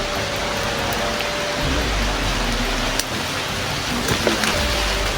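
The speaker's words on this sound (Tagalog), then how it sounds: "Grabe, malakas yung ulan tol." Heavy rain pours steadily in a broad, unbroken hiss, loud and close, with a low rumble underneath and a few faint knocks.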